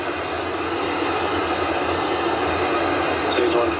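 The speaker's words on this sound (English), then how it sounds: "ignition, and liftoff." Falcon 9 rocket engines roar at liftoff as a steady, dense broadband rumble that stays loud and unbroken throughout, with a voice faintly present beneath the noise.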